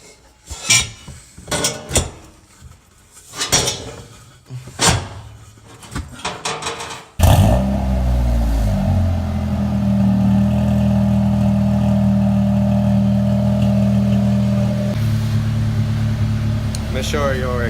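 A 2005 Honda Civic EM2 with a newly installed exhaust fires up after some clattering clicks and tool noise, then idles with a loud, steady droning rumble that shifts in pitch near the end.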